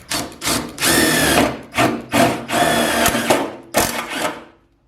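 A power drill drives a screw into a Mercedes W108 seat floor bracket: several close, loud bursts of whirring motor with short pauses between them, then a fade to quiet at the end.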